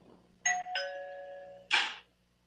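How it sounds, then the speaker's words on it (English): A home alarm system chimes as it auto-arms: two quick electronic tones ring out and hold, then a short burst ends the sequence, clear and alone in a quiet room. "That was my alarm auto-arming."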